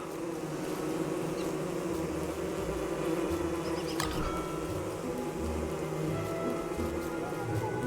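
Bees buzzing in the video game Don't Starve, a steady insect drone running the whole time with a soft patter like rain layered over it, fairly quiet and with no talk.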